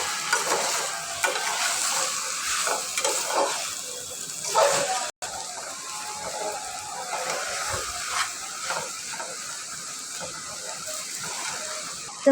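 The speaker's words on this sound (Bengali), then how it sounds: "এখন একটু ভালো করে মিশিয়ে নিব" Momo filling seasoned with soy sauce is mixed with a spoon, giving close, irregular soft scraping and squelching stirs, with a brief dropout partway through and no talking.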